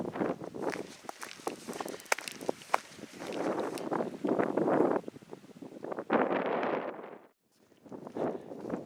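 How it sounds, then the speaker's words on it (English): Strong gale-force wind buffeting a Scottish hilltop on the moors, roaring gusts and microphone rumble over crunching footsteps of a walker, loud and close, easing briefly before another gust. "It's blowing a gale up here."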